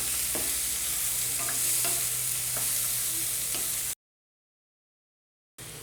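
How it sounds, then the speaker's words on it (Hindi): Chopped onions frying over a high flame in a pan for onion kachori filling, a steady broadband sizzle with a few light stirring clicks, close and continuous, then a brief drop to silence before the sizzle resumes. "फिर हम इसमें चॉप किए हुए प्याज डाल देंगे और इन्हें हाई फ्लेम पर 2-3 मिनट के लिए भून लेंगे"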